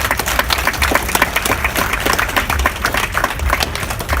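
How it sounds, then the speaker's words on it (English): A crowd claps steadily, a dense wash of many hands applauding together without pause. "Another round of applause, ladies and gentlemen."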